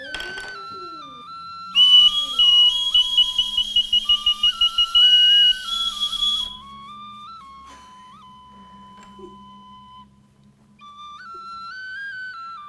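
A Crimean Tatar clay toy whistle shaped like a hen, blown in bright, wavering tones, with a loud stretch of rapid fluttering trills in the middle before steadier notes return.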